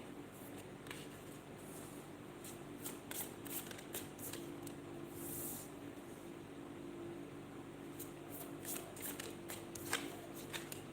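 Tarot cards being shuffled by hand during a live reading, giving repeated soft riffling bursts that come in clusters over a low steady room hum, fairly quiet and close, with no one talking.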